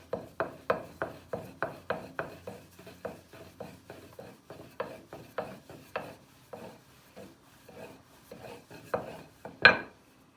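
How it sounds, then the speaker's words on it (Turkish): Rolling pin working dough into thin plate-sized sheets on a board, a series of close rhythmic rubbing and tapping strokes, fairly quiet, with brief pauses and a sharper knock near the end. "Şimdi bu hamurları tabak gibi açacağım."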